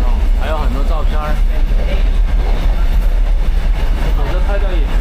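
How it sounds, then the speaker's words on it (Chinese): Old vintage train running out of Cairns, Australia, heard from inside the carriage as a steady low rumble and clatter; voices talk over it the whole time. "是好多年没有坐过火车了，而且是这么古老复古的火车"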